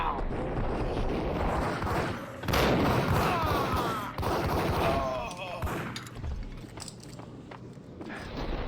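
Gunfire and heavy thuds from an interactive action movie video game about mob history, dense and loud in bursts with voices talking over the shooting.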